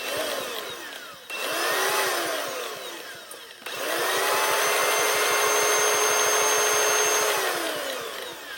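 A Milwaukee M18 cordless grease gun motor whirs steadily, stopping briefly twice before running continuously at a loud, even pitch.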